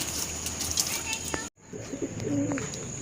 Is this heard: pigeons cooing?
yes